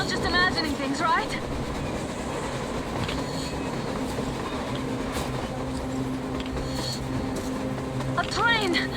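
A train rolling across a snowy surface in the game Metro Exodus, a steady rumbling rail clatter with a faint squeal, heard through blizzard wind alongside game background sound.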